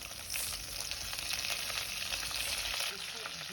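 Finely chopped green chillies roasting in hot oil for a wedding-style khara bath, giving a dense, even crackling sizzle with a low rumble that runs steadily at close range before easing slightly at the end.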